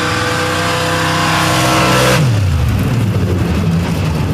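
A nitrous drag race car at Sanford roars loudly down the strip, a harsh full-throttle blast that cuts off abruptly midway and falls into a dropping, fading engine rumble.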